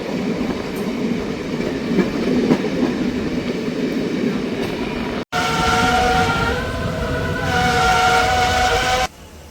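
A train rumbles steadily past at Meesalai railway station in Jaffna, first as a broad low roar, then with tonal screeching and humming layers after an abrupt cut, ending suddenly.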